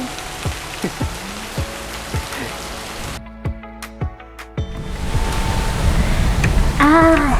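Rain patters steadily on a surface, with distinct drops tapping through a brief lull before a denser, louder downpour sets in toward the end.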